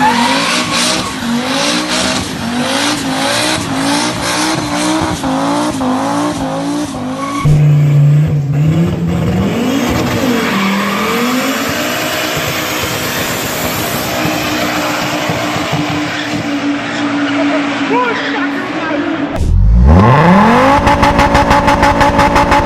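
Fiat Marea 2.0 Turbo being driven hard, its engine revving through rising gear pulls with tires squealing, a sharp skid near the end followed by a loud, close engine surge, no talking.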